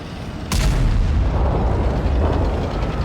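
A World of Tanks tank gun fires an HE shell in one loud, close boom that lands abruptly and then rolls on as a sustained heavy rumble to the end, with no talk.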